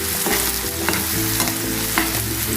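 Shallots, curry leaves and crushed ginger and garlic sautéing in a hot pan, a loud close sizzle with repeated scraping stirs of a spoon, no voices.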